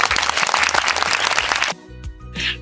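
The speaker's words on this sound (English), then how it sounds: "give them 5 claps" A classroom of students claps for a presenting pair of classmates in a rhythmic burst of group claps that ends abruptly, followed by quieter room noise with brief faint sounds.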